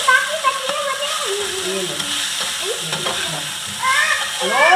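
Poha tipped into a hot pan and stirred with spices, a soft sizzle with scraping stirring strokes under a voice and a child's high chatter, louder clattering near the end.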